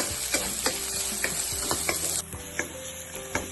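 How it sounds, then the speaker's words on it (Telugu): Onions frying in hot oil with whole cinnamon, cardamom, bay leaf and cloves, a steady sizzle broken by repeated scrapes and knocks of stirring, close and fairly loud with no talk. "ఇప్పుడు ఉల్లిపాయలు ఇవి కొంచెం వేగనివ్వాలి."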